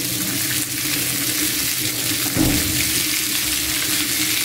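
Loud steady sizzle of vegetables stir-frying with snow peas in a pan over high heat, continuous hiss with a brief clatter of stirring midway, no talking.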